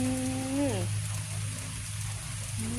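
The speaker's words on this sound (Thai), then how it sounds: "ฝนก็ตก" Steady rain falls outdoors, a constant hiss of drops spread across the clip, while a voice speaks briefly over it near the start and again at the end.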